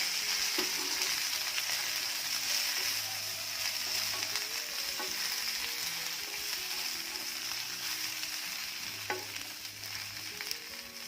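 Okra fries in a little hot oil, giving a soft, continuous sizzle that stays even throughout, with quiet background tones beneath it.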